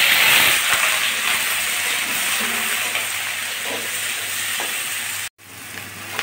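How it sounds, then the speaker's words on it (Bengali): Chopped onion and garlic hit hot oil in a pan for Maggi noodles, giving a loud, steady sizzle with faint stirring scrapes that runs continuously before cutting out briefly near the end. "এই যে গরম তেলের ভিতরে আমি এখন পেঁয়াজ কুচি আর রসুন কুচিটা প্রথমে দিয়ে"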